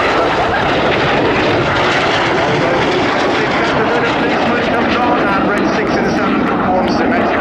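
Display team jets flying at the Cosford air show in England, a loud, continuous broadband engine roar that fills the whole stretch while a commentator talks over it on the public address.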